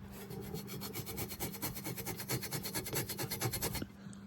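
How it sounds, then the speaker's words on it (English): A red Scotch-Brite pad is rubbed hard back and forth across a metal surface on a Porsche 944 transaxle job, making a fast, rhythmic raspy scrubbing that is close and continuous before stopping abruptly. "And you just scuff up the surface really good."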